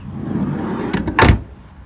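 A Volkswagen Caddy's sliding side door is slid along its rail and shut close by, a short scraping slide ending in a solid thump, with no talk.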